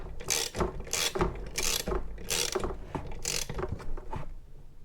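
A ratchet clicks in five quick, close strokes as it torques down the spark plug on a Craftsman 430 CFM leaf blower, each stroke a crisp run of metallic pawl clicks.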